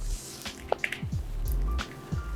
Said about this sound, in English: I'm pouring the water in this glass in front of you.